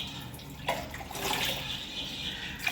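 Water splashes and trickles in short pours over sun-drying rice vadagam, a light hissing flow that starts, pauses and resumes, fairly close.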